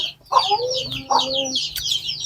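Chickens cluck and chirp close by in a rural setting, two throaty clucks standing out over a continuous high chatter of smaller birds or chicks, with a low background hum.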